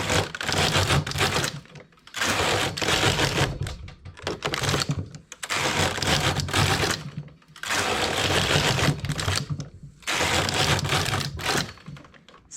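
A domestic knitting machine carriage sweeps back and forth across the needle bed knitting rows, each pass a loud rattling, clattering burst of about two seconds separated by brief pauses, repeated six times in a steady rhythm.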